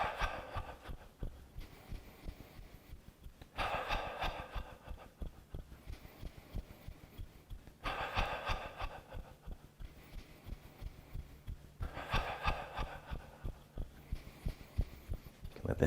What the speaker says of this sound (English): So remember, it's inhale through the nose and let the breath fall out through the mouth.